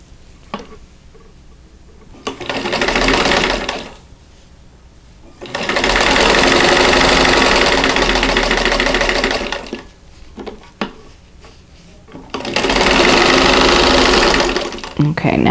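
A sewing machine joins fabric pieces for a Christmas bauble quilt block in three loud, close bursts of steady stitching, with quiet pauses between runs.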